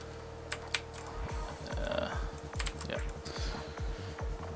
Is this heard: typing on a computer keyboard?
yes